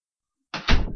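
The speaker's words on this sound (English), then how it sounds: "Would you close the door, please?" A door swings shut with a solid, close thud, following a brief scrape, after a moment of silence.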